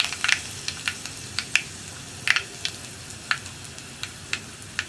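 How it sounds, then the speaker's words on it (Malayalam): Fenugreek seeds and dried red chillies in hot oil, a close, low sizzle broken by sharp irregular pops and crackles scattered across a few seconds. "ഉലുവയും കൂടി പൊട്ടിക്കഴിയുമ്പോൾ നമുക്ക് 2 വറ്റൽമുളകും കൂടി ചേർത്ത് കൊടുക്കാം"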